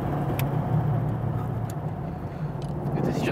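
Car driving on the road, a steady low engine and road rumble heard from inside, with a voice speaking over it.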